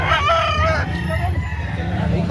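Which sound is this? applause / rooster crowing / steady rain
rooster crowing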